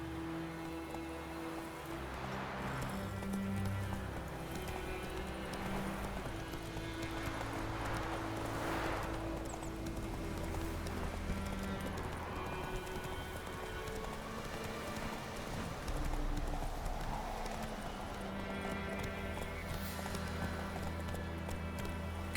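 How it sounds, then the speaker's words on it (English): A horse galloping in The Witcher 3 on Nintendo Switch gives steady clip-clop hoofbeats. They run continuously under a layer of game music and ambient rain-like noise. "Whoa there, Roach"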